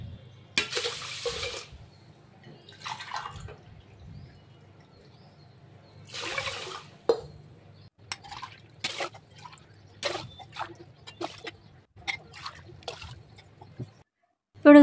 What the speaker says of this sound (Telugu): సో మనం ఇప్పుడు 7 గ్లాసెస్ వాటర్ అయితే వేసేసుకుందాం.